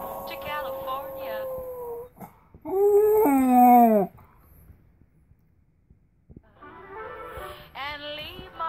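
A Jack Russell terrier howls along to a sung tune, rising wavering howls in several bursts with a loud peak in the middle, mixed with someone singing nearby.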